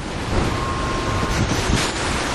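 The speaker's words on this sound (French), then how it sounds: "je ne résiste pas au plaisir de vous montrer la vague" Broadband rush of wind and surf on the open Pacific Ocean, force 4 wind while sailing at six knots, steady and loud throughout, with washing water and a faint tonal hum underneath.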